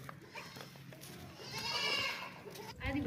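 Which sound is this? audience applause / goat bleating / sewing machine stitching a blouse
goat bleating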